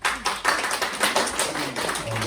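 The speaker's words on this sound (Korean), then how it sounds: "주님께 영광의 박수 올립시다." A congregation at a middle school worship service claps in a brief burst of dense, overlapping applause.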